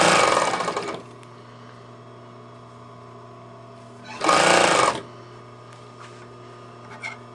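A sewing machine stitches welt cord onto a pillow in two loud bursts, about a second and under a second long, separated by a quiet pause filled with a low steady hum.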